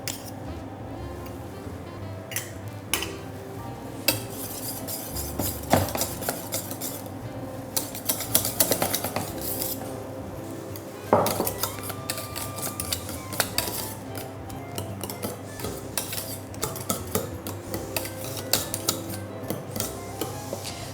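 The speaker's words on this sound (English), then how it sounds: "we're going to add our Biscoff and just whisk that through" Biscoff being whisked through thick custard in a bowl, giving a steady run of close scraping and clinking utensil strokes with scattered louder knocks, and no talk.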